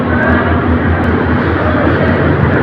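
The Kishorganj Express, an intercity meter-gauge train of Bangladesh Railway's eastern zone, runs between Dhaka and Kishorganj with a loud, steady, close rumble.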